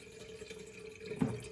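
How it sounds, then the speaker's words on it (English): Filtered water trickles into a teapot in a home kitchen, a thin steady flow that swells briefly near the end, close and fairly quiet with no talking. "Again, using the filtered water in the teapot."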